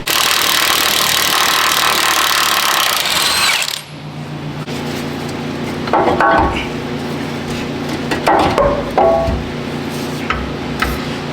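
A steering pitman arm on a GM truck is cut nearly through with a loud, continuous grinding cut, which stops abruptly and gives way to quieter work, with short bursts from an air hammer as the rest is separated.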